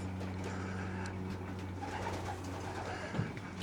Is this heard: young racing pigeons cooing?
yes